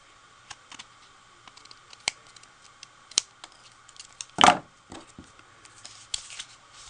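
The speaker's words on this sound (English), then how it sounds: "Now I'm going to flip this over, and trim these ends off with my scissors." Scissors snip through the ends of a Thanksgiving card stock card, trimmed from the back: a few faint clicks and cuts, then one louder, sharper snip near the middle, close and alone without talk.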